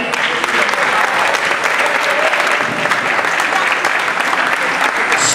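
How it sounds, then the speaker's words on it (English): Loud, steady applause from an audience at a 2014 senior night ceremony, honoring a player, sustained without break and close throughout. "Clap it up for Eddie."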